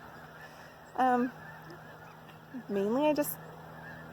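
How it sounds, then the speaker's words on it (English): Geese in a large flock at a wildlife refuge in Colusa give two loud, nearby honking calls over a steady murmur of distant birds, with a brief word spoken in between. "If you can hear the birds in the background,"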